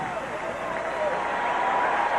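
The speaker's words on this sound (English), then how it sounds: "And the crowd appreciative." Broad, sustained crowd applause and cheering from a large stadium audience at a 1990 NFL game between the San Francisco 49ers and L.A. Rams, steady and distant-sounding throughout.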